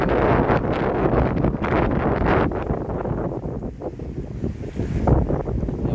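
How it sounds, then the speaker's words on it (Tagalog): Strong typhoon wind buffets the microphone in heavy gusts on a seaside baywalk, with rough surf and waves roaring beneath, loud and continuous. "Ay malakas talagang hangin talaga guys."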